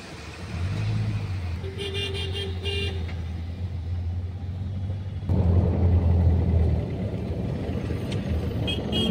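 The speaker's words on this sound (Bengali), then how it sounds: "দেখো কত গাড়ি দাঁড়িয়ে আছে, রাস্তায় জ্যাম আর জ্যাম।" A road jammed with vehicles in Dankuni town rumbles steadily nearby, with a few short car horn toots rising over the engine drone early on.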